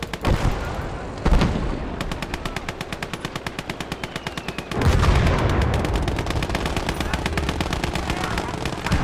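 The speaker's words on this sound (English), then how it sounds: "That fucking little machine gun." Rapid machine-gun fire rattles in a war strategy game, a loud, evenly spaced stream of shots that briefly breaks, then resumes heavier and denser near the end.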